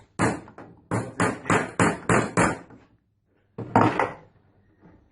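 Nails are hammered into a wooden Hurley bander with a quick run of about six sharp, close knocks, a short pause, then one more strike.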